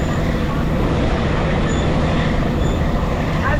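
Scenic railway train on the coastal line at St. Kitts rumbling along the tracks in a dense, continuous roar of wheels and rail noise, close and loud throughout.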